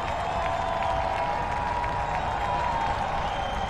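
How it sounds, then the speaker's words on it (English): Stadium crowd at a soccer match between Spokane Velocity FC and Richmond Kickers, a steady dense roar of cheering and applause filling the whole stretch with no break, loud and distant-sounding, with a faint commentator voice underneath. "Listen to this crowd."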